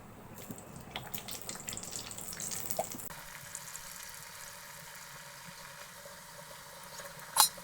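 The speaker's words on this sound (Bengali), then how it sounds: "এখন এটা ভেজে নেব।" A Mughlai paratha fries in oil in a pan with a soft, crackly sizzle that settles into a quieter hiss partway through, then a sharp clink near the end.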